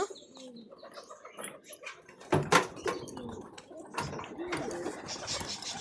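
Pigeons coo softly nearby at a flooded rooftop loft during feeding, with sudden bursts of wing flapping and rustling movement among them.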